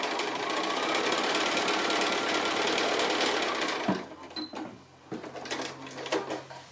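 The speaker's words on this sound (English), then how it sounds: "I'm just going to sew about 1/8 of an inch also from the top edge as well." A sewing machine stitches along the top edge of fabric for a fat quarter glasses case, running in a steady fast close whir for about four seconds before stopping, followed by small handling clicks.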